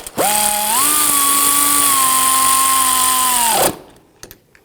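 A power tool snugs down the bolts on the front left CV axle assembly of a 2001-2009 Volvo S60 with one loud, steady whirring run of about three and a half seconds that winds down and stops, close up and without talk.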